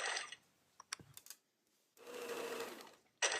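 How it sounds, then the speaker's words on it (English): A sewing machine stitches a curved neckline in short bursts. A brief run and some clicks of handling come first, then a longer steady whir about a second long, and another burst starts at the end. "make sure you sew that curve into the neckline"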